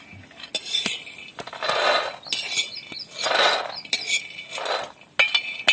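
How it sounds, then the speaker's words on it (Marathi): Roasted peanuts, reddened from dry roasting, scraped and tipped out of a pan, with sharp metallic clinks of a spoon against the pan and bursts of rattling, shuffling nuts between the strikes. "आता हे शेंगदाणे आम्ही काढून घेणार आहोत"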